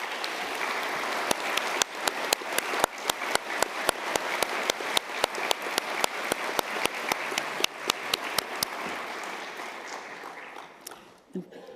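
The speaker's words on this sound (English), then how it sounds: "Let's give them all a huge round of applause" Steady applause from a graduation ceremony crowd at a University of Galway summer conferring, with sharp, evenly spaced claps standing out near the front over the broad clapping, fading out toward the end.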